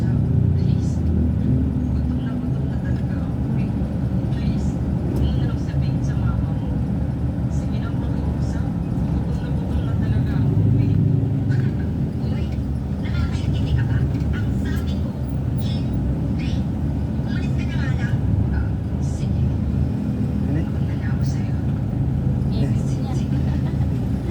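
Steady road traffic on a busy street in the late afternoon, with cars and motorcycles passing in a continuous mid-level rumble. People talk over the engines now and then.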